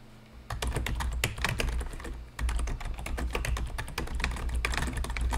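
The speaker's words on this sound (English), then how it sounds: "you just click and then you can type in whatever you want" Fingers type rapidly on a computer keyboard nearby, a dense run of crisp clicking keystrokes with a brief pause partway through, heard alone without talk.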